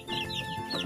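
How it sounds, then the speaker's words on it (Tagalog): Young chickens in a brooder give a quick run of soft, close clucking. "Ito sila mga chicken"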